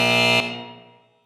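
Quiz show contestant buzzer: one loud, harmonically rich electronic buzz held for under half a second, then cut off, leaving a fading ring as it decays to silence.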